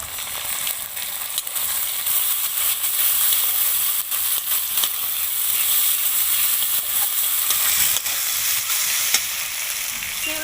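Ground ginger, garlic, cumin, coriander and dried chili paste fries in a pan for a jackfruit curry, giving a steady loud sizzle and hiss with occasional stirring scrapes and no voices.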